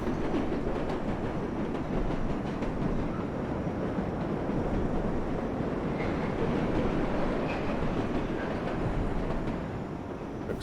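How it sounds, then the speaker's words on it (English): A New York subway local train pulls away from a station in World of Subways 4, a steady dense rolling rumble of wheels and car noise with faint high squeals, continuous and fairly loud throughout. "Another local train sitting there, just leaving."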